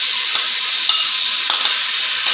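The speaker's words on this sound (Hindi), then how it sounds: "इसमें ये मटर जो है ये डालूंगी। ये अदरक इसमें जाएगा" Peas and ginger going into a hot, oily pan for matar pulao, with a loud, continuous close sizzle and a few soft clicks of a utensil.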